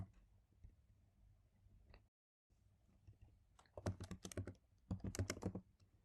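Quiet typing on a computer keyboard, a few scattered soft clicks and then two quick close bursts of rapid key presses, with no speech.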